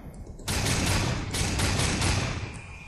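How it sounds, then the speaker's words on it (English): Gunfire in the Darksiders 2 video game: a dense burst of loud, close shots starting after a brief quiet lead-in, carrying on in rapid succession with thumping low end before easing off near the end. "Why am I shooting in the air sometimes?"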